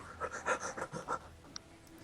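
A voice imitating out-of-breath panting, quick rhythmic huffs for about a second and a half, close and fairly loud, then trailing off.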